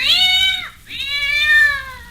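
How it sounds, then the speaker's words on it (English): A cartoon cat lets out two drawn-out, wailing snarls in quick succession, loud and close, with a brief gap between them. "The cat snarled"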